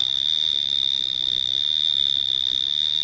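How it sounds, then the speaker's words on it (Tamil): An alarm wristwatch beeps in a steady, piercing high-pitched tone that holds unbroken and loud for several seconds with no talk over it. "அலாரம் வச்ச வாட்ச்"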